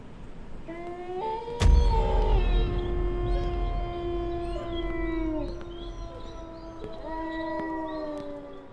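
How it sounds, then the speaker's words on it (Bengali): A dog howls at night in long, wavering, drawn-out cries that rise and fall over several seconds, preceded by a sudden low thump, in a quiet outdoor setting. "আর দূরে কোথাও কুকুরের কান্না।"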